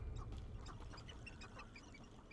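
Birds squawk and squeal in Hogwarts Legacy, a series of short, nasal calls repeating in an irregular rhythm over a steady low background rumble.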